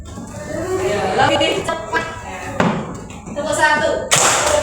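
Schoolchildren in a classroom clap their hands on a teacher's command, a few loose bursts of clapping landing between spoken instructions, with voices talking throughout.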